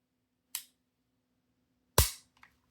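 A Girsan 2311 Witness Match pistol dry-fires with no ammunition, giving two sharp, close metallic clicks about a second and a half apart. The second click is louder and followed by a faint small rattle.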